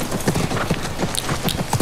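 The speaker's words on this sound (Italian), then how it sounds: "Quello è il nostro cavallo." Horse hooves clip-clop in a steady, quick rhythm at close range in The Last of Us on PS5, near a ranch, loud and continuous with no talk over them.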